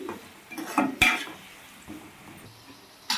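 A spoon stirs capsicum and tomato pieces in a pan, giving soft scraping and a few sharp metallic clinks against a faint sizzle, close and quiet with no talking.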